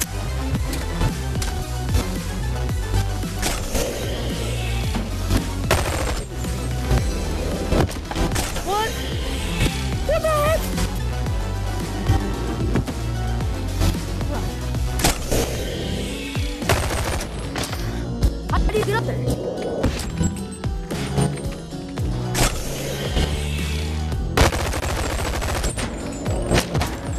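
Rapid gunfire from a trick shot in the VR game BONELAB: dense, repeated sharp shots and bursts that continue without letup for nearly half a minute.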